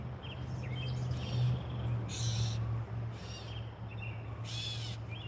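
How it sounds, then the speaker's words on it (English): A bird calls in a tree near its nest in a garden, giving a few short sharp calls over steady low background hum. "And that bird is yelling at me right now."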